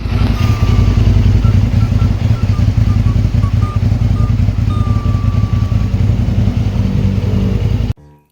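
A new 450cc motorcycle engine idles loudly and steadily close by for about eight seconds, with a rough, pulsing throb, then cuts off abruptly.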